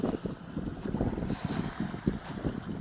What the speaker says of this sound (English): There's waves we got coming in.